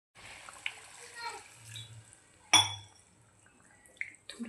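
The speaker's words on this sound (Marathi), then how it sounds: "थोडंसं पाणी ॲड करूया आपण वरतून" Water is poured into a pot of Hyderabadi-style mutton boti curry, giving a short splash and gurgle amid quiet clinks of a utensil against the pot, with soft kitchen noise around it.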